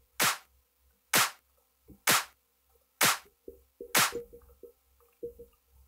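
Pre-shifted clap sample triggered in FL Studio for a future bounce beat, five sharp claps landing slightly off the grid with a swung feel, mixed with fainter percussive hits near the end.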